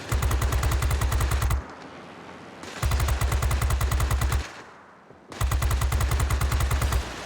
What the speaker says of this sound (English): despite which I still am overheating this cannon